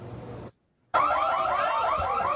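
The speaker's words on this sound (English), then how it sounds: "You're hearing the store alarm wail." Store alarm inside a restaurant, a loud electronic wail with fast warbling tones that cuts out for a moment and then resumes, loud and alone.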